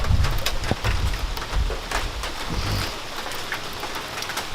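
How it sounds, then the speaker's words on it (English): Rain begins falling outdoors, a soft steady patter of drops on surfaces with a few sharper nearby splats, moderately quiet and continuous with no voices. "It's starting to rain too."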